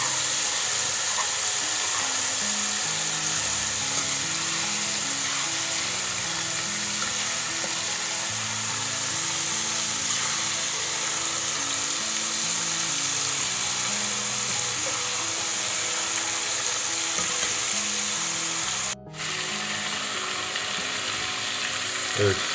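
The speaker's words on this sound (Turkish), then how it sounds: "30-40 saniye sonra böyle bir şekilde karıştırıyoruz biraz." Albanian-style liver pieces frying in a hot pan, a steady loud sizzle running throughout with stirring scrapes and clatters, close up and without talk.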